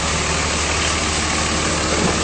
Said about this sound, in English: As you can hear, it's running nice and smoothly,